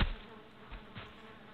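Bees buzz in the video game Valheim, a soft, steady insect drone that swells briefly a couple of times over about a second and a half.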